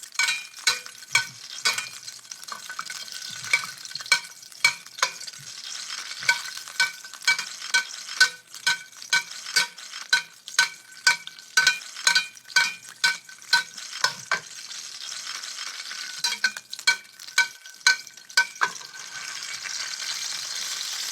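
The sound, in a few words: duck breast sizzling and rendering fat in a pan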